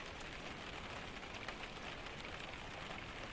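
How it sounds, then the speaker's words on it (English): Steady rain falls on a roof in a Japanese forest, a dense, even patter that holds at a soft level throughout with no voices. "The roof held the rain."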